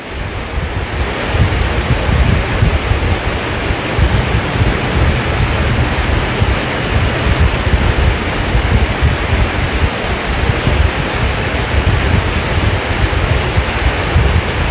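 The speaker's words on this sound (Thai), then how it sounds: "เสียงฝนจ้า" Heavy rain pours down steadily for a breakfast meal outdoors in Thailand, a dense, loud wash with wind-like gusts and low rumbles and no voices.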